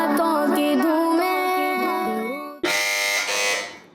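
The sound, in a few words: quiz show buzzer pressed by a team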